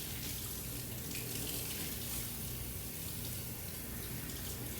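Tap water running steadily over a fish being rinsed of its scales, a constant close splashing rush with no pauses and no talk.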